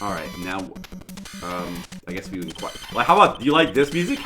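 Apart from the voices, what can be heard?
No distinct noise like a dog, phone or traffic.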